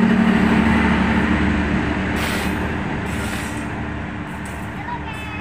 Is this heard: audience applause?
no